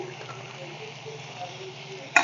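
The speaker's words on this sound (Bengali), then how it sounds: "এর মধ্যে এখন দিয়ে দেবো টমেটো কুচি।" Chopped tomato dropped into frying onions for a Bangladeshi Bhola fish curry, giving a steady, soft pan sizzle with faint stirring, closing on a short clatter.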